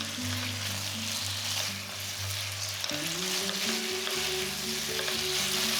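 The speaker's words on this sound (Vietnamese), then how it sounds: "Hạ lửa nhỏ cho sốt sôi nhẹ. Mình cho mề gà đã chiên vào luôn. Đảo đều cho mề gà áo hết lượng sốt." Fried chicken gizzards being stirred into a simmering chili sauce on low heat, giving a steady close sizzle and bubbling with low stirring scrapes throughout, no voices.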